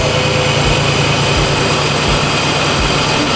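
A supercharged Toyota 3.4 V6 swapped into a 1980 Toyota pickup idles close by, a loud steady roar with a rhythmic low pulsing throb and a whining blower hiss on top.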